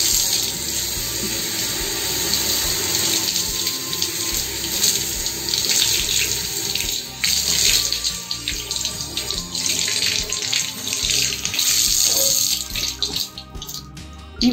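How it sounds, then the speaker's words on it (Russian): Cool tap water runs steadily and close by, splashing and gurgling as a synthetic-hair wig is rinsed beneath it, with occasional shifts in the flow. "Промываем его под прохладной проточной водой."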